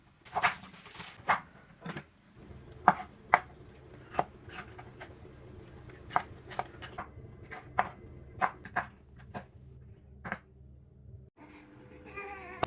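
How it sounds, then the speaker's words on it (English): Red onions and sweet peppers being sliced on a cutting board for a Mexican chicken dish, a run of sharp, close knife chops in an irregular rhythm, some in quick clusters, with a faint low hum beneath and no talking. "I'm going to start with slicing my vegetables. I used 4 red onions and 3 sweet peppers."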